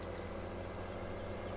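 A tractor engine in Farming Simulator 17 idling at a steady low drone, a constant throbbing rumble with no changes in pitch and no voices.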